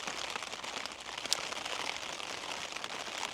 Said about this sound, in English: Quite heavy rain at the moment.